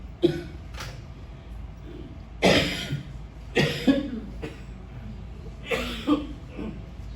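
Several harsh coughs in short bursts during a Sunday church service, separated by pauses, with a couple of clustered coughs later on; fairly close and loud.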